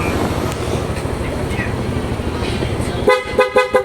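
A pair of PIAA horns wired through a relay on a Yamaha Nmax motorcycle blasts four loud, close, two-tone honks in quick succession, following a few seconds of background noise and a person talking.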